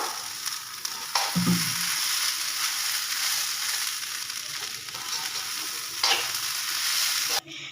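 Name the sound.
rice being fried and stirred in a pan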